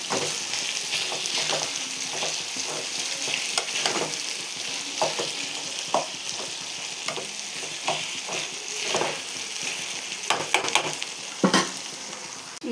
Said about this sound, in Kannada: ಟಮೆ ಇದು ಈರುಳ್ಳಿ ಇದು ಹಾಕ್ತಾ ಇದ್ದೀನಿ